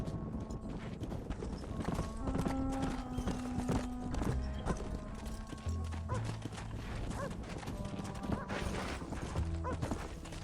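Horse hooves clip-clop in the video game Red Dead Redemption: a busy, continuous patter of several horses moving together near a pen, with music and clatter around it and voices in the mix.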